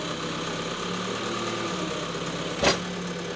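An Egholm CR 3070 compact tool carrier engine runs at a steady idle-like hum near by, with a brief sharp knock or clunk just before the end.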